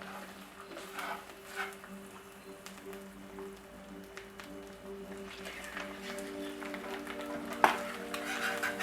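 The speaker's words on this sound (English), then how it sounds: "I cooked the eggs a little below medium because already the pan is hot" Bacon and eggs frying in a hot Lodge carbon steel pan, a soft steady sizzle with faint stirring clicks and a brief sharp tap near the end, under a low constant hum.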